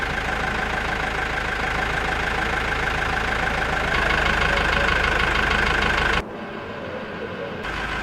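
A rice combine harvester's engine runs in a loud, steady drone, briefly louder before dropping to a duller rumble near the end.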